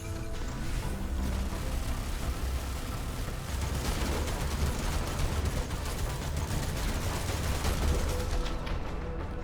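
A dense, sustained barrage of mech gunfire and impacts in the video game Phantom Brigade, loud and continuous throughout with heavy low rumble, fading slightly at the end.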